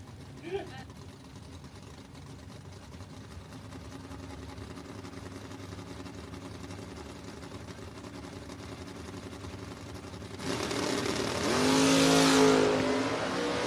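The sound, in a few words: drag race cars launching down the strip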